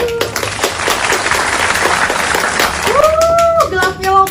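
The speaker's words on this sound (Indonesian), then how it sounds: "Tepuk tangannya lagi." Audience applause at a lively Indonesian gathering, a dense wash of many hands clapping that fades as a tonal voice or music rises over it near the end.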